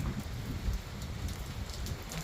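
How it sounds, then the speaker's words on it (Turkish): Quiet, steady patter of heavy rain falling on an offroad caravan tent in winter, with scattered soft drop ticks over a continuous wash. "şakır şakır yağmur yağıyor"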